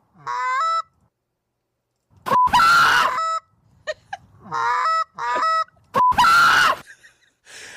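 Recorded goose honks played back, loud harsh squawking calls in several bursts with short gaps between, each burst stacking repeated nasal honks.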